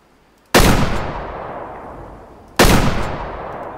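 Two loud Remington rifle shots ring out in the hunting game Way of the Hunter, about two seconds apart, and each sharp crack trails off into a long rolling echo.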